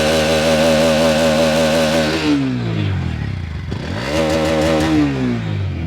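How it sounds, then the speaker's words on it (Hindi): A Bajaj Pulsar NS motorcycle engine starts and revs hard twice, its single-cylinder note climbing to a high-RPM scream, dropping back, then rising again, loud and close with no talk. "अब साउंड सुन लेते हैं, गाड़ी को एक बार स्टार्ट कर लेते हैं और एक बार आपको साउंड सुनवा देते हैं।"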